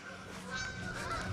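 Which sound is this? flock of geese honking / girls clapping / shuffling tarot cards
flock of geese honking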